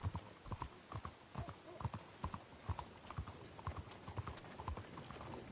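Horse hooves clip-clop at a steady walking rhythm in a RedM roleplay video game, soft and even with no voices over them.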